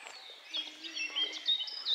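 Birds sing outdoors in a forest on the Veluwe, with faint, high, overlapping chirps and warbles that carry on steadily in a quiet setting.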